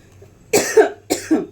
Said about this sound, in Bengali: ভীষণ কাশি হয়ে গেছে গো